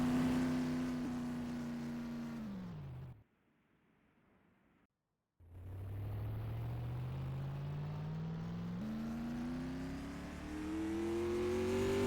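Supermodified race car engine at Oswego Speedway during time trials, a loud high-pitched roar that fades away as the car passes, drops to near silence, then builds back as the car approaches and revs up again, rising in pitch.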